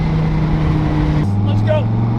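A sports car's engine drones steadily, then its pitch steps abruptly as it downshifts around the middle, staying loud and continuous throughout.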